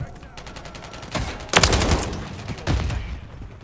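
A diamond-camo gun fires in Call of Duty MW3 in rapid repeated bursts, with two louder volleys standing out among quieter shots.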